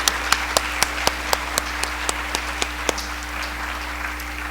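An audience at a USDA Pride observance event claps in applause, a thin, sparse patter of a modest crowd with a few sharper individual claps, fading out after a few seconds.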